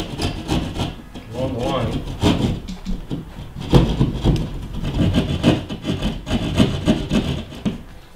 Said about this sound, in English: Now the fun part, cutting walls.